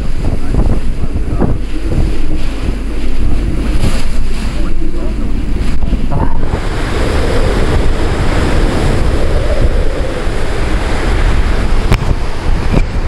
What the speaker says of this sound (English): And there's some palm trees bending into the wind.